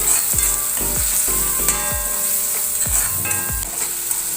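Green chillies sizzle in hot oil in a pan for Maggi noodles, with loud continuous crackling and a regular run of scraping stirring strokes, close up and without voices.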